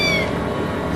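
A cat gives one brief, close meow over a steady background hum, with no one speaking.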